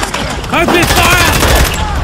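Rapid machine-gun bursts ring out as a sound effect in a toy army men stop-motion battle, loud and close, with a shouting voice rising over the rattling fire.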